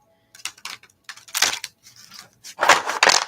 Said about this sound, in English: let me just shuffle these a little bit